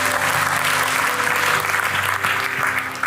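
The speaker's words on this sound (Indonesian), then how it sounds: "Kasih tepuk tangan dulu buat Tuhan." A church congregation at a praise and worship service claps loudly and continuously for God, a thick, sustained wash of applause with a low musical hum underneath.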